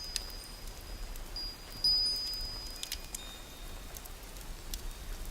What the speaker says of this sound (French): Écoutez la pluie. Elle est douce, régulière,